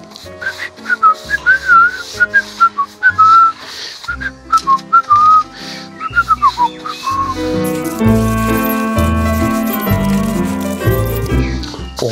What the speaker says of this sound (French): On peut même siffler en peignant, si on veut.